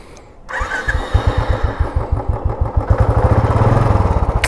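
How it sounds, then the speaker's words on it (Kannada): A Royal Enfield Bullet motorcycle with its stock exhaust fires up after a brief quiet and settles into a loud, close, evenly spaced thumping idle that grows slightly stronger toward the end. "ಸೊ ನಿಮ್ಗೆ ಸ್ಟಾಕ್ ಸೌಂಡ್ ಕೇಳಿಸ್ಬಿಡ್ತೀನಿ ಬನ್ನಿ, ಬುಲೆಟ್ದು ನಮ್ಮದು"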